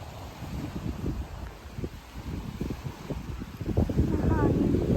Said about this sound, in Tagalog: Pala sa probinsya, sobrang hangin.